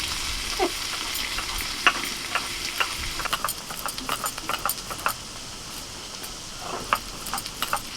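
Soft hissing sizzle of bottle gourd frying in a pan, with irregular light ticks and spatula scrapes throughout.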